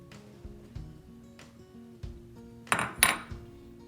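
An egg drops into a frying pan on a home stove, giving two sharp, bright sizzling bursts near the end, after a stretch of quiet low cookware clatter. Nobody speaks.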